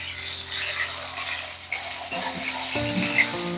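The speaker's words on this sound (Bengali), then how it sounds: "মাছ কিন্তু হাই ফ্লেমে ভাজতে হবে।" Snakehead fish fries in hot oil over a high flame, sizzling steadily close up. A few soft scrapes and clinks come as the pieces are turned, with a brief low hum partway through. No voices are heard.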